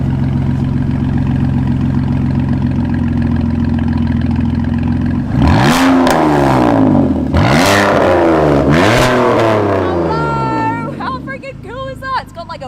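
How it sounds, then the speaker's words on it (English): A concept car's engine revs hard several times in bursts, loud and close, after a stretch of steady idle rumble, with short sharp blips near the end. "this is a concept car that sounds like that."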